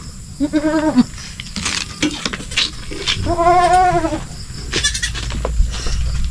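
Farm goat, a mother staying close to her kid, gives two drawn-out wavering bleats close by, with shorter bleats, shuffling and clatter between them.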